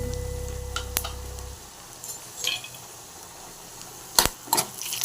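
Coriander seeds and cumin sizzling in a pan for onion chutney, with a brief low hum at the start and a few sharp clinks and crackles over a quiet frying hiss.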